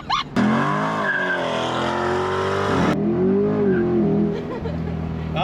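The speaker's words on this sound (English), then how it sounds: "how to have fun doing launch control in your C8 Corvette" Chevrolet Corvette C8 engine roaring loudly on a launch-control start, revving up through rising pitch with a brief gear-shift dip, accompanied by tire squeal.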